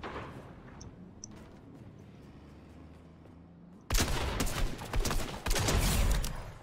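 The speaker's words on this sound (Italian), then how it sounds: "Deve ancora atterrare e già mi spara." Gunfire in Fortnite, at first quiet scattered pops over a low game ambience, then loud close bursts of rapid shots that keep hammering to the end.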